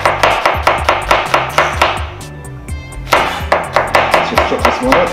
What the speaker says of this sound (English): Let's just chop this one